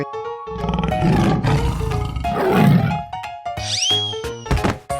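A tiger in a 3D animal sliding video game gives loud, rumbling roars in two bursts, set against upbeat game music and thudding effects.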